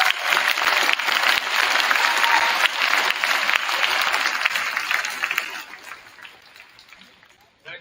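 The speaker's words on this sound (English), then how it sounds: "let's give another round of applause for you" Audience applause at a wrestling state sendoff fills the room, steady and loud for about five seconds before thinning out and fading near the end.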